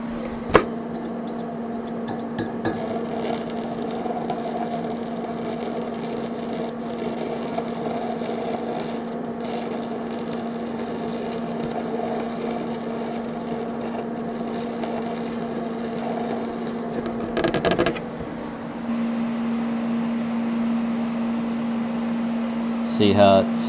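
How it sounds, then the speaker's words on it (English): Stick welding on thin square steel tubing gives a steady buzzing crackle with a constant hum throughout, briefly interrupted near the end. "Go ahead and weld on her some more."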